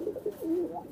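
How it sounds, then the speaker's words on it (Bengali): Two male golden pigeons coo in short, soft, repeated warbling phrases, close by and with no talk over them. "ভাই এই দুইটা কবুতর হলো গোল্ডেন কবুতর"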